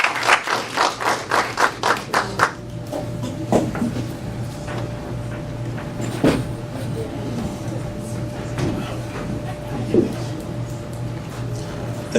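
An audience at a workshop and networking event claps to welcome a speaker. Brisk, fairly close applause lasts about two seconds, then drops away into quiet room noise and talking.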